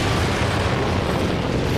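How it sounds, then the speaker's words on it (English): A very large explosion from blasting a rock face rumbles on as a dense, sustained roar of low boom and debris noise, loud and unbroken from start to end with no clear speech. "One very large explosion just went off."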